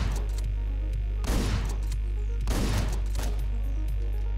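Gunshots in the video game Hotline Miami: two sharp, loud bursts about a second apart, each decaying quickly over a steady low hum.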